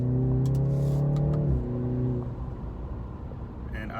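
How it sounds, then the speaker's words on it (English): The engine of a 2019 BMW 330i revs with a rising harmonic drone heard from inside the cabin, then drops off as the revs fall, leaving quieter road noise. "You hear it revs up a little."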